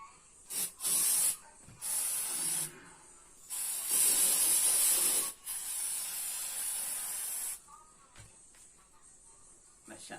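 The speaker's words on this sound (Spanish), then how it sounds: "cogeríamos nuestra spray de silicona" Silicone spray from an aerosol can hisses onto a fishing rod in several close bursts of varying length, the longest lasting about two seconds, with short quiet gaps and faint handling noises between them.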